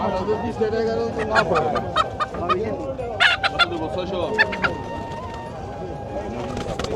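Chickens and roosters at a busy fish and vegetable market cluck and squawk in repeated short bursts, close by, amid steady crowd chatter and people talking.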